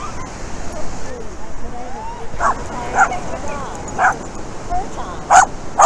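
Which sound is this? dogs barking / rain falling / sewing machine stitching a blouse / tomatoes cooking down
dogs barking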